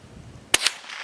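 A Remington Model 514 .22 rifle fires one sharp, loud shot, followed a split second later by a second crack or echo that decays quickly.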